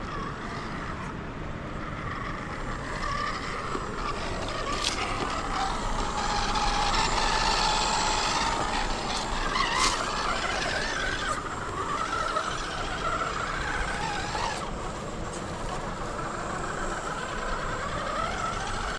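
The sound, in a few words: Vanquish Mullet RC rock crawler driving on rocks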